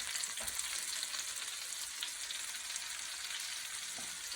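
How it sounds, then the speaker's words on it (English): Polish sausage, apple, cabbage and onions sizzle and fry in a pan, a soft, steady crackling hiss with occasional faint pops, heard alone at low volume. "Can you hear that goodness behind me sizzling away?"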